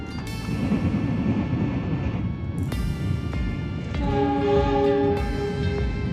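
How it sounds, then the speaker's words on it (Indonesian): A passenger train departing Purwokerto station in Indonesia rumbles and clanks along the rails with a steady low roar, and a horn sounds briefly near the end. "KA Singasari kembali diberangkatkan dari Stasiun Purwokerto jam 23:06"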